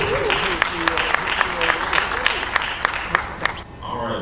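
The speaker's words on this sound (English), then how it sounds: "can we give Randolph another round of applause?" An audience applauds at the 28th annual Booker T Washington economic event, with a sustained round of many hands clapping near and loud. Voices sound over it, and it ends abruptly near the finish.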